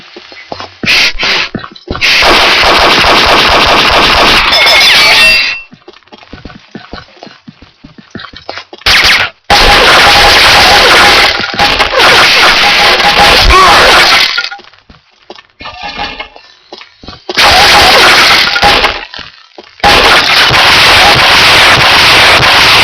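Desert Eagle pistol shots in Combat Arms, a pistol-arena match on the Karagoth map, come in loud, dense bursts of cracking fire and clattering impacts, separated by short quiet gaps, with no talk.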